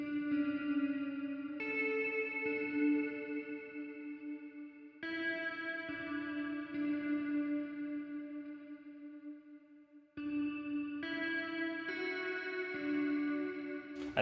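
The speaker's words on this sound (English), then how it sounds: "This is how our second bridge guitar sounds on its own." Lo-fi beat's second bridge guitar plays alone, soft sustained melodic notes in short phrases with chorus, echo and reverb effects, mellow and quiet, without voices.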